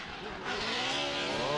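A Chevrolet Camaro drift car on tires during Formula D practice in Texas, its engine and tire noise roaring loud and close in a short burst, with commentary over it.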